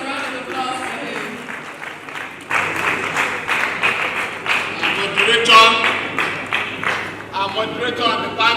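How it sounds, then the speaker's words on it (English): An audience at a birthday lecture for Wole Soyinka applauds, the clapping swelling midway and continuing steadily, with voices talking over it. "Please, a round of applause for him."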